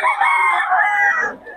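A fighting cock crows once, loud and close, a single drawn-out call that trails off near the end.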